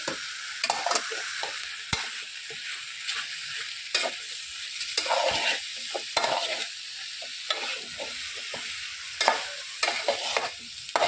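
Large prawns are stirred into a frying masala, with repeated close scraping and clacking strokes of a spoon in the pan over a light sizzle, rhythmic and irregular, no talking.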